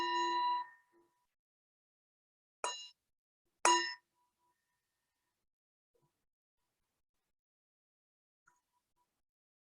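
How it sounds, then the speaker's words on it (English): Three strikes of a meditation bell opening a sit, one ringing tone followed by two clear pure dings spaced about a second apart, each decaying into near silence. "we'll let the bell invite us to go into the first meditation"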